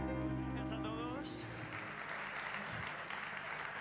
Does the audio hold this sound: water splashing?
no